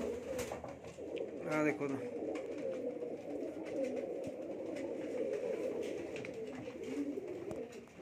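Pigeons coo softly in low, rolling murmurs nearby on a rooftop while someone speaks over them.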